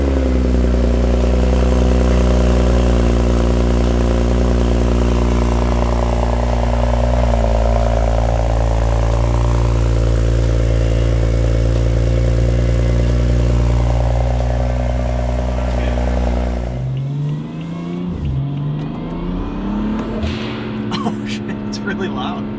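A 600 hp BMW F30 335i, tuned and heard during a ride, drones loudly with a steady, deep engine note. Near the end it drops and then climbs again as the revs change.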